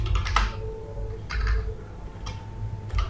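Someone types a command on a computer keyboard, a few sparse, close key clicks spread over a few seconds over a low steady hum, with no talking.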